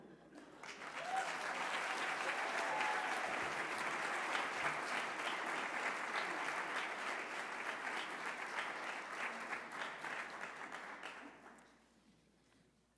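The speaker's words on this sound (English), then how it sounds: "Let's take one more moment for a resounding round of applause for all of our recipients" Sustained applause from an audience at a 2023 service recognition awards ceremony, steady dense clapping for about eleven seconds before fading out at the end.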